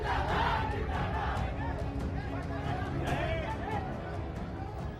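A large crowd gathered outside Mukhtar Ansari's house, a dense roar of many voices with shouting and chatter, steady and close throughout.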